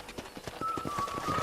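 A horse in Red Dead Redemption, played on Xbox One X, clip-clops along in a steady quick rhythm of close hoofbeats, with a thin high tone joining midway.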